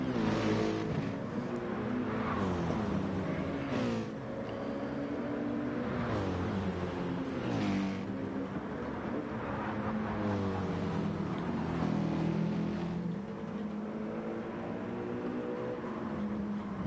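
Race cars, including a BMW, pass at the 2023 Nürburgring 24 Hours: a dense, continuous engine roar with overlapping rising and falling pitch sweeps as several cars go by close and loud.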